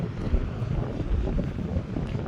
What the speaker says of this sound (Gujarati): સાંજના આવીએ જ આપણે ફિશિંગમાં ને પવન નીકળી આવ્યો છે ફૂલ